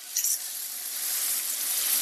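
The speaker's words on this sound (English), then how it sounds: "when you hear that sizzle, you know your skillet was warm enough anyway." Chicken pieces sizzling in a hot skillet for creamy chipotle garlic chicken, a steady bright hiss of frying with a brief louder crackle near the start, close and continuous.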